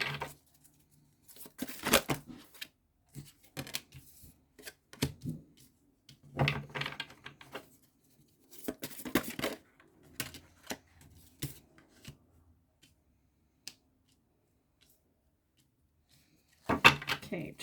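Tarot cards are shuffled and drawn at close range in several short, papery bursts of riffling and slapping, separated by quiet pauses, with a faint voice speaking softly at times.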